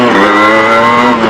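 A Yamaha RX-100 two-stroke motorcycle, now heavier after fitting alloy wheels, revs hard during a wheelie attempt. The loud, steady, buzzing engine note is held close up through the short burst, with no speech.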